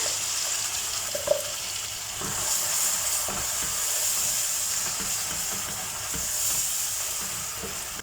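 A steady sizzling hiss of ground masala paste and Kashmiri chili powder frying in butter in a pan continues throughout, with a few faint stirring clicks.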